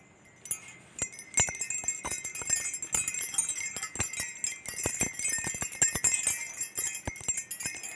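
Homemade wind chime of reused bangles jingling and tinkling, many bright metallic clinks in irregular clusters, continuous and close, without voices.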